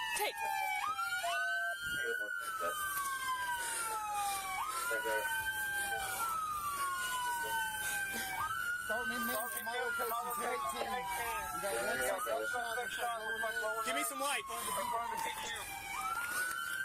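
A police car siren wails loudly and continuously in repeated rising and falling sweeps at a shooting scene where officers give first aid, with tense shouted talk from officers over it throughout.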